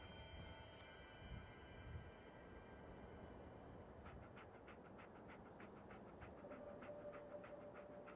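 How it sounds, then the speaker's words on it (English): In the Fallout 4 video game, the companion dog pants with quick, rhythmic breaths over a low rumbling ambient drone. The panting is faint and steady and there is no speech. "I think Dog Meat's earned some time off."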